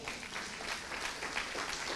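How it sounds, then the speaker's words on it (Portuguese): A church congregation applauds in a steady, even wash of many hands clapping, continuous and moderately distant throughout. "Se você crê nisso, aplauda ao Senhor."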